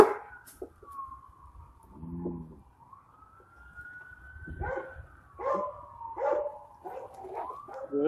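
A police dog barks in short bursts near an alley behind a building, mixed with a wailing police siren and brief radio or voice fragments during a foot pursuit.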